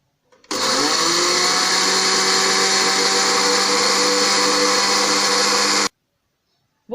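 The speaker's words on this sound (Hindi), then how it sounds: "अब हम जीरा पीसेंगे।" An electric spice grinder whirs loudly and steadily while grinding cumin seeds for a homemade mix, a dense motor roar that starts abruptly, holds for about five seconds and cuts off.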